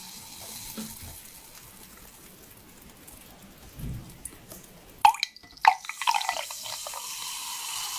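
A drink being poured close to a microphone in an ASMR setting, opening with faint dripping, then a few sharp splashes and a steady near, trickling pour, with no talk over it.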